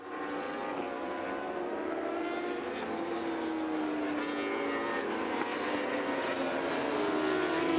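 A racing motorcycle at a championship race in Germany's Motorsport Arena passes the start and finish line, its engine a loud, sustained high whine with a rising, shifting pitch that holds steady over nearly eight seconds.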